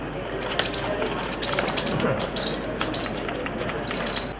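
Three birds smuggled in plastic cages in luggage from Bangkok to Sri Lanka chirp in repeated bright bursts, close and fairly loud over a faint background hum, with some soft rustling.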